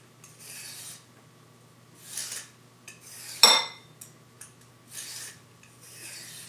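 A carrot is scraped with a two-way potato peeler in quick, close rasping strokes, about five separate swipes with short pauses between them and one sharp metallic clink midway.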